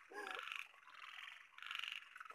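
A frog calls at night during a late-night crab and frog hunt, giving two bursts of bright, rapid trilling croaks that are fairly faint and close, with no talk over them.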